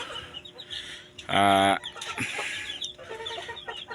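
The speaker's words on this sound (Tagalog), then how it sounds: "So ayan mga kamanok." Native chickens clucking close by, with one loud drawn-out squawk among softer scattered clucks and background farmyard murmur.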